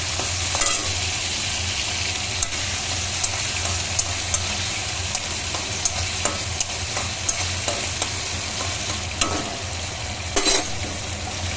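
Potatoes rubbed with salt and turmeric fry in a pan over cumin seeds, a steady close sizzle broken by frequent spatula scrapes and stirring clicks, with no talking.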